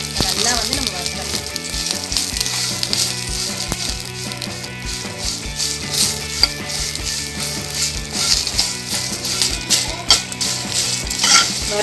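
Curry leaf powder ingredients and rock salt dry roasting in a pan, a dense continuous crackling rustle with rattling, scraping stirs, close and fairly loud throughout.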